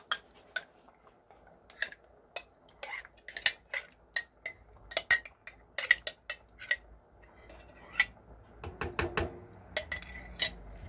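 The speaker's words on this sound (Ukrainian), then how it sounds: "Гарненько перемішуємо" A spoon clinks and scrapes repeatedly against a metal pot while zucchini caviar is stirred with tomato paste, irregular sharp taps that grow denser toward the end, with a quiet voice in the background.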